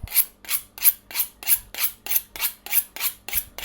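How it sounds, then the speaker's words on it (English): A kitchen knife being sharpened, about a dozen quick, evenly paced rasping strokes in a steady rhythm, close and fairly quiet, with no voices. "Let me do a quick sharpening."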